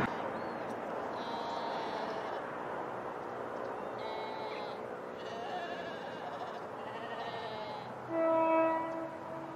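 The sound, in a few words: distant train passing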